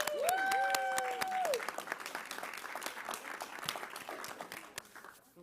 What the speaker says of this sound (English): Could be the first time a superintendent got applause at a budget hearing